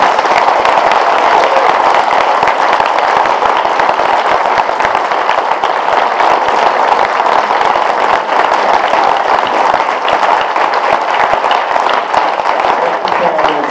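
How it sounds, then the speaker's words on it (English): A room full of people at a city council candidate debate applauds at length, dense and even clapping that stays loud and continuous for over ten seconds, with faint chatter mixed in. "If we could all please give these candidates a big round of applause."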